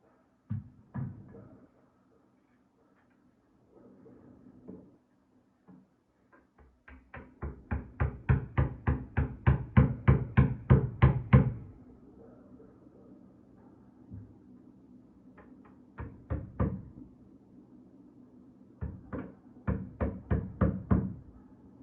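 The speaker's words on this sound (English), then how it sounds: "This is a 3/4 inch chisel." A 3/4 inch wood chisel tapped into a front door frame, giving short runs of sharp, evenly spaced knocks close to the microphone, with pauses between bursts.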